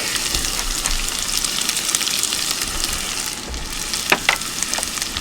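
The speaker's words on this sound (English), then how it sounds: "now that we got our olive oil nice and warm, we want to go ahead and add all of our vegetables" Carrots, garlic, onions and other vegetables hit warm olive oil outdoors, making a loud, dense, continuous sizzle with a couple of sharp utensil clicks near the end.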